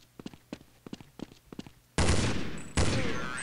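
Gunfire in Counter-Strike zombies multiplayer: a quick run of light footsteps, then two loud, close gunshot blasts about a second apart, each with a ringing decay, no talk.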